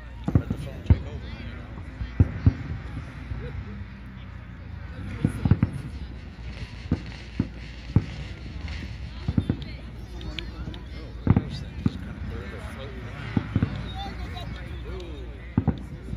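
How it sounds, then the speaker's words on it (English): Sharp bangs of Fourth of July fireworks pop at irregular intervals, some in quick clusters, fairly distant, over a low background hum and occasional voices. "So now you can look straight at the firework."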